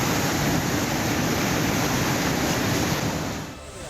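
Monsoon floodwater from the mountains of Pithoragarh, Uttarakhand, rushing through settlements, a loud, dense, continuous roar of churning water that eases slightly near the end, with no speech.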